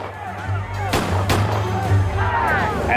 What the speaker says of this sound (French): Tout d'un coup, on a entendu plusieurs coups de feu.